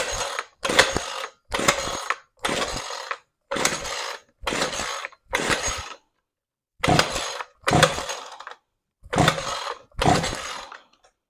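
A broken Ryobi Expand-It engine set to full choke is pull-started about ten times. Each tug gives a short, close, ratcheting whir of the recoil cord and turning engine, separated by brief silences, and the engine never catches.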